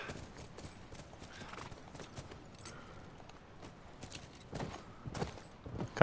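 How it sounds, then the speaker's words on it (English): Horse hooves clip-clop steadily in The Last of Us Remastered video game, with whinnying mixed in and the sounds swelling louder toward the end. "Can I ride my horse through here?"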